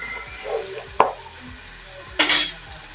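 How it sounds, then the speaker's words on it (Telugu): Sliced onion with ginger-garlic paste fries in a pan, a low sizzle under a couple of sharp scraping stirs of a spoon against the metal, no voices. "కొంచెం బ్రౌన్గా వేగనిద్దాం."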